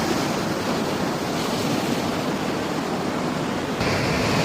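Sea waves wash against the shore at Enayam, a continuous, full roar of surf that stays loud and unbroken throughout, with a little wind mixed in.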